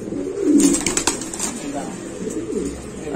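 A Lahori pigeon coos nearby in low throaty bursts, with some rustling and voices talking close by.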